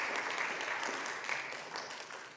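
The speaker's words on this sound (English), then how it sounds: "it's okay if you would also like to clap for Layton and Mark." Congregation at a church service clapping for Layton and Mark, steady dense applause from many hands filling the room for the whole stretch, slowly easing at the end.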